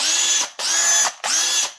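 A small power drill with a 4 to 4.5mm bit whirs in three steady bursts separated by short pauses, close and loud with a high mechanical whine.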